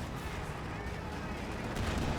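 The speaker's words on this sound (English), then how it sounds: "And now do have some more major artillery, I'm assuming that is, being brought on in." Distant artillery fire rumbling in a Company of Heroes 2 battle, a dense continuous rumble of booms with a louder burst near the end, under faint commentary.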